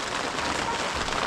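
Steady rain falling during an evacuation, a dense, even hiss of drops on surfaces that fills the whole moment at a loud, constant level without pause.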